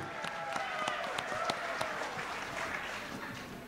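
An audience at the 2018 Padang Panjang mayoral election debate claps steadily, a soft, even patter of many hands heard from some distance with no talk over it.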